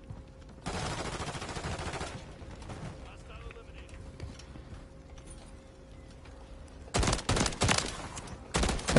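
Rapid gunfire from a gun in Modern Warfare 3, a sustained burst at the start followed by a quieter stretch of game sounds, then several sharp close bursts near the end.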